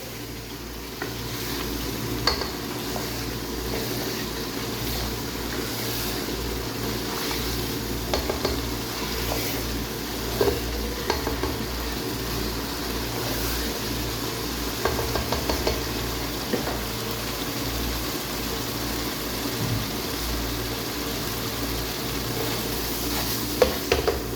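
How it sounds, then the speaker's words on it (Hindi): Mutton paya (goat trotters) roasting on full flame in a pot, with steady soft sizzling and occasional scraping stirs running throughout, moderately loud and continuous with no talking. "दो से 3 मिनट के लिए मैं इसकी सही भुनाई करूँगी फुल फ्लेम पे"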